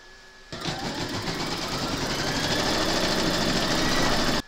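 An embroidery machine starts up and stitches a letter onto a burp cloth, a sudden onset into a steady, close buzzing rattle that holds evenly for several seconds before cutting off.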